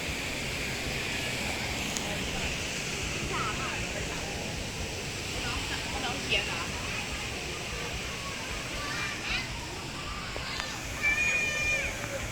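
Crowded Dong Phaya Yen waterfall in Saraburi, Thailand: steady broadband rush of flowing water fills the scene, with a busy crowd murmuring and chattering underneath throughout.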